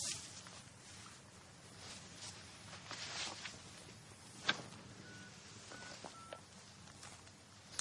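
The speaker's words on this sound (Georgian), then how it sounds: "ჩემ მობილიდან დავრეკავ" A mobile phone number is dialed in a Georgian TV drama scene, a few short, faint keypad tones over quiet room noise.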